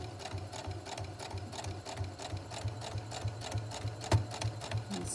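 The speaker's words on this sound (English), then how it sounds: "I'm going to reverse my stitch here. I want to make sure it's nice and firm." Sewing machine runs in a fast, even mechanical chatter while reverse stitching the elastic casing of a fabric mask, steady and close, with a single sharper click partway through.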